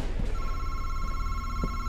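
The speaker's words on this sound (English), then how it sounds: "The phone is ringing? Are you kidding?" Telephone ringing in the horror video game MADiSON, a steady electronic ring that starts after a brief moment and repeats over a low game ambience, fairly close and clear with no talking.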